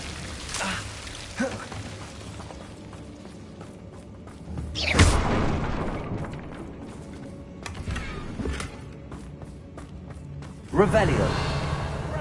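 The Confringo fire spell blasts in Hogwarts Legacy: a sharp whooshing burst erupts midway, and a second strike lands near the end, over a low, hissing game ambience.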